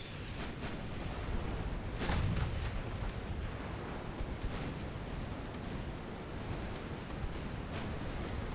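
Secondary naval guns from a warship fire on cruisers in the Ultimate Admiral: Dreadnoughts naval battle game, a steady rumbling barrage of distant booms over a constant sea-like roar, one heavier blast standing out early.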